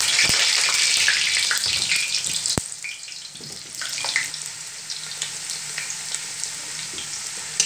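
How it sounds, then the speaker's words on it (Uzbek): Chicken and potatoes fry in oil, giving a loud, hissing sizzle that is strongest at first and then settles into a softer, steady crackle, with a few sharp clicks and no talking. "keyin tovuq kartoshka qizarmaguncha qovurishni davom etamiz"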